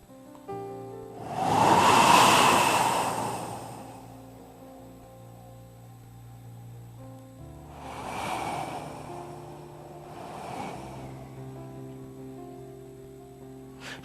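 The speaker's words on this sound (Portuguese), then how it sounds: "ouve o barulho do vento" Desert wind at night surging in broad, rushing gusts, one strong swell early, then two softer gusts rising and falling against a low steady hum.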